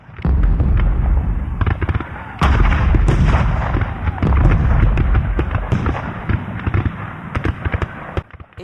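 Cannon fire at Fort Sumter, South Carolina, at the start of the Civil War, heard as a sound effect: loud, repeated booming blasts and crackling gunfire in dense, overlapping bursts throughout.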